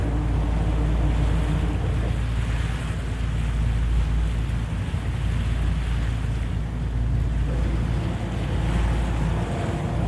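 A river boat passes under the Market Street Bridge with a loud, continuous rumble of engine and wind-blown water noise, steady and enveloping for the whole stretch, with no talking.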